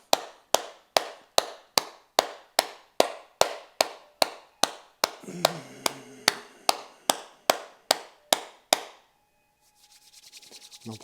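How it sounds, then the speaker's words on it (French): After a gentle exercise session, hands clap in a steady, evenly spaced rhythm of about two crisp claps per second, with a brief rubbing texture in the middle. The clapping stops abruptly and leaves faint background noise. "on peut même s'applaudir"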